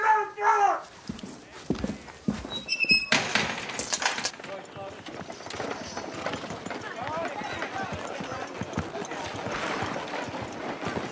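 Horse hooves clip-clop and run amid a busy, noisy scene in a western TV drama, with people talking over the commotion.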